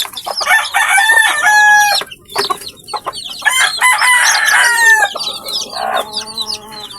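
Young chicks cheep loudly and continuously alongside clucking chickens and a rooster's crow, a busy, close farmyard chorus with no talk.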